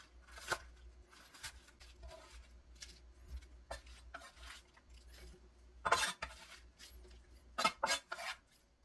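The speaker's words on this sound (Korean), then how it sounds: "오늘 부재료로 들어갈 쪽파는 4-5cm 길이로 썰어줍니다." A knife cuts green onions into 4-5 cm pieces for spring kimchi: irregular crisp chopping taps and scraping on a board, with clusters of louder cuts near the end, close and without talk.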